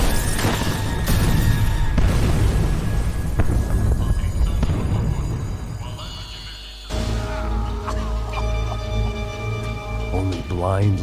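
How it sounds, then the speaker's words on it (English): A bomb blast in the video game Max Payne 3 opens with heavy low booming and rumbling debris, then gives way to a droning, ringing aftermath with shifting tones, loud and close. "Only blind luck it meant the blast wasn't fatal"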